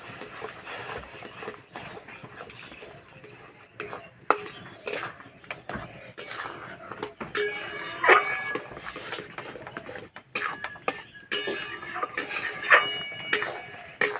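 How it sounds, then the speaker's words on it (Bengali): Semolina is stirred into a pot of hot water on the stove, producing irregular scraping, clinking and knocking of utensil against pot, close and moderately loud, with busier clatter toward the end. "এইভাবে অল্প অল্প দেবো আর এইভাবে নাড়তে থাকবো"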